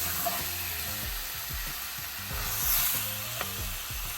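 Mutton and tomatoes fry in a pan as they are stirred, a close, continuous sizzle with occasional scraping, and soft background music underneath.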